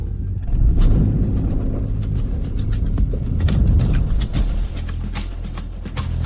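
A car slowing to a stop, a loud low engine and road rumble that rolls on for several seconds with scattered knocks and clicks, then eases toward the end, no voices heard.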